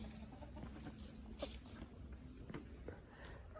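Chickens in a farm pen at feeding time give a few soft clucks and scattered scratching steps over a steady background hum, all faint and fairly distant.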